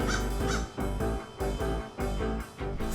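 Several crows caw loudly in repeated bursts, roughly every half second, while mobbing a kestrel that clutches a mouse, recorded in a Chinese city.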